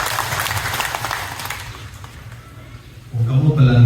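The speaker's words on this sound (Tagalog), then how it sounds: "Ito palakpakan ang Ginoo ibabaw sa atong kaluwasan" Applause from a church congregation, a dense wash of clapping for about two seconds that thins and fades away, after which a voice starts speaking.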